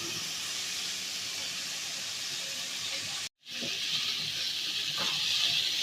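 Asafoetida and potatoes sizzling in hot frying oil, a steady close hiss of frying that briefly cuts out for a moment, then resumes slightly louder.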